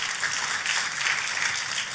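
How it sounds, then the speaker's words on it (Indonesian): Congregation at an evening prayer service claps together, a soft, even wash of many hands heard at a distance, steady and unbroken. "Kita kasih tepuk tangan"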